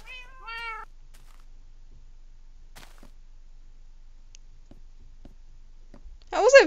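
Cats in the Minecraft video game meow close and clear, one meow at the start and a louder one at the end, with sparse faint clicks in the quiet between.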